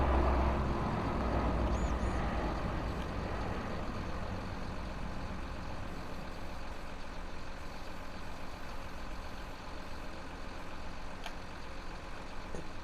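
The grapple of a John Deere 953 mill loader in Farming Simulator 19 opens against a continuous diesel engine drone, with faint hydraulic whirring and a small clack near the end.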